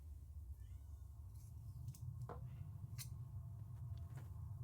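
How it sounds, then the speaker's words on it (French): A house cat grumbles and meows in a home kitchen during baking, brief faint cries rising over a steady low background hum, with a few short clicks scattered around them. "J'ai mon chat qui râle, je ne sais pas pourquoi."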